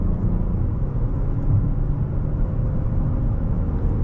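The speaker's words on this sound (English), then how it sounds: "we are now behind the wheel of this Cadillac XT6, going for a quick test drive here" 2023 Cadillac XT6 Sport SUV on a test drive, a steady low cabin rumble of engine and road noise at even loudness throughout, with no talking.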